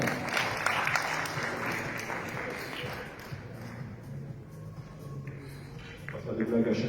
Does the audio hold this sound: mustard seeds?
no